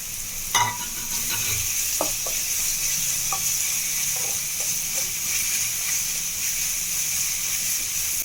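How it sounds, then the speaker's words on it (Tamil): Mixed vegetables and steamed green peas sauté in a pan for veg cutlets. A steady, bright sizzle runs throughout, broken by a few spatula scrapes and stirring knocks nearby, with no voices. "காயெல்லாம் நல்லா வதங்கி வந்துடுச்சுங்க"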